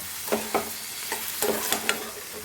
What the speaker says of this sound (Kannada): ಎಲ್ಲದನ್ನು ಮಿಕ್ಸ್ ಮಾಡ್ತೀನಿ